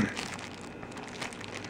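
A small plastic bag holding punch stops is handled up close, giving a steady, soft crinkling and rustling throughout with no speech.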